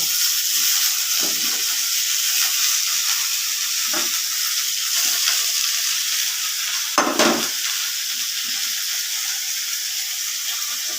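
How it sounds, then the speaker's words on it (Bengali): Ridge gourd frying in hot oil in a kadai with salt and turmeric hisses in a continuous broad sizzle, broken by a few dull stirring knocks and one louder scrape, with no talking. "এখন আমি চিচিঙ্গাটা এর মধ্যে ছেড়ে দেব চিচিঙ্গাটা লবণ হলুদ দিয়ে আমি ভেজে নেব"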